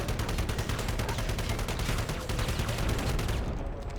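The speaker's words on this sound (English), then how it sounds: "Uzi. The Israeli submachine gun." An Uzi submachine gun fires in rapid continuous automatic bursts in the Halo CE XAM mod game, loud and dense for nearly four seconds before cutting off at the end.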